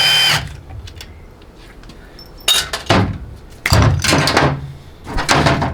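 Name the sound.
loosening 10 mm bolts on transmission accumulator housing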